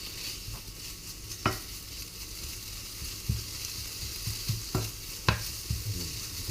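A wooden spoon stirs food in a pan, with scattered soft knocks and scrapes against the pan over a faint, low sizzle, all fairly quiet and with no talking.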